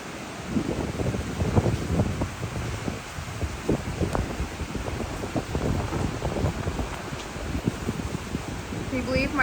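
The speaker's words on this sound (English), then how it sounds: "Oh, here comes a big wind gust. I can hear it." Strong hurricane wind during Hurricane Helene roars outdoors in a continuous, loud rumble with gusty surges and rustling, filling the scene without a break.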